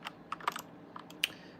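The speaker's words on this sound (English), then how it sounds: "I have a keyboard, and I can type out what I need" Typing on a computer keyboard, a quiet, uneven run of sharp key clicks, a handful of separate taps close to the microphone with no talking.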